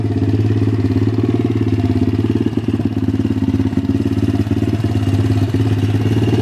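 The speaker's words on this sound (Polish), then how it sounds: "I lekko klekoczą zawory." An MRF 170 pit bike with a K170 engine idles close by, a loud, steady four-stroke rumble holding an even beat with no revving and no voices.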